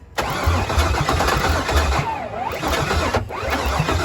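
Pontiac G8 engine cranking on a start attempt, with a loud rhythmic starter churn that continues without catching, close by and briefly interrupted partway.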